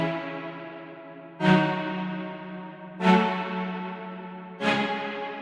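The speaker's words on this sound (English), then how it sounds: "Next thing we got is the strings that sound like this." Omnisphere string patch plays chords an octave above the piano part, three soft swelling chords spaced about a second and a half apart, each fading slowly.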